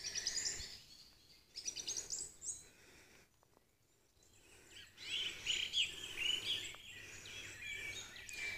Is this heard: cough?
no